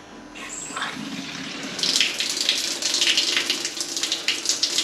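A token-operated shower running at a waterside facility: a hiss of spraying water that starts softly, then gushes louder and steadily after a couple of seconds, with no talking.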